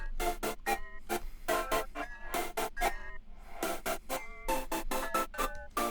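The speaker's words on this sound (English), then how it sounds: "And then I morphed it. This is the goofy ass bell" A morphed Christmas bell from Labs rings in rapid, choppy repeated strikes, each hit bright and metallic with a wobbly, processed texture, pulsing steadily for several seconds with no talking.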